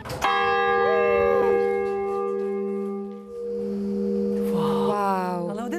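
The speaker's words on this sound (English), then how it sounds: "This is one cool bell." A church bell in Asolo, Italy rings with a loud, sustained metallic tone and long humming overtones, struck once near the start and again later, each strike decaying slowly with faint chirpy sounds around it.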